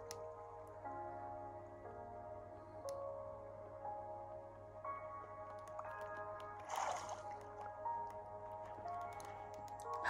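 Quiet, slow, repetitive squishy digging sounds with soft watery drips and muffled tones of blocks being mined underwater in Minecraft, faint and muted throughout.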